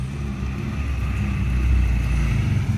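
A Honda Prelude under restoration drives along with a steady, rumbling engine drone and road noise from inside the car, continuous and fairly loud throughout.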